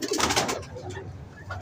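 Pigeons kept in a loft by a breeder coo in soft, low bursts, strongest in the first half second and then tapering into a quieter, murmuring flock background with another faint coo near the end.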